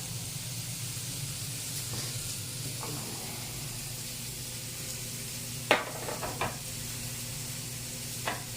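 Shrimp seasoned with salt and pepper sizzling in a hot non-stick skillet, a steady frying hiss with a low hum beneath and a few sharp clinks of a utensil against the pan.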